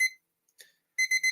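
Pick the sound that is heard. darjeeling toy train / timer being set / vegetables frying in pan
timer being set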